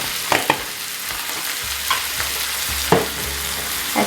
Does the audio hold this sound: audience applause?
no